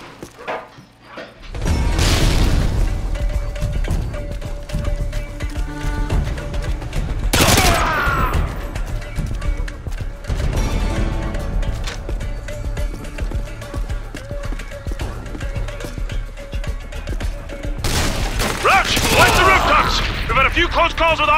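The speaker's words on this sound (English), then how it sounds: "we're taking a heavy fire from the militia here" Heavy gunfire from militia in Call of Duty Modern Warfare 2, loud sustained bursts of automatic weapons and sharp cracks, with big blasts flaring near the start and end amid constant battle noise.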